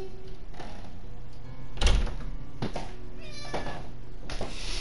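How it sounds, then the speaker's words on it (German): A cat meows a few times near a doorway, faint cries over steady background hum with a louder knock or door sound midway. "Ja, und da ist die Katze."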